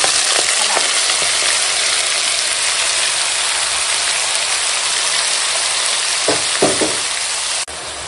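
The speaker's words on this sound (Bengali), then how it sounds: "কালো জিরে ফোড়নে দিলাম আর দেবো ছেঁড়া কাঁচা লঙ্কা" Black cumin seeds and torn green chillies sizzle steadily in hot oil, a loud continuous frying hiss with a few brief stirring clatters near the end and no talk.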